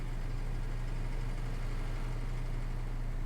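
A tractor engine idling steadily in the Farming Simulator 19 video game, a continuous low droning hum with a faint, even rumble and no talking.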